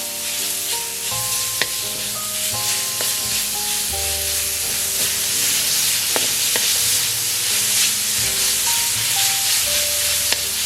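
Pork being stir-fried in a hot pan for Thai drunken noodles, a loud, steady, close sizzle that hisses throughout, with faint melodic background music underneath.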